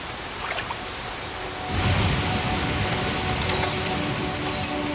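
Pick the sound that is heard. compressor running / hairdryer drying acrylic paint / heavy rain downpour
heavy rain downpour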